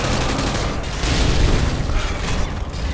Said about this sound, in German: Ich schieße 3 Schüsse und ist auf einmal wieder leer.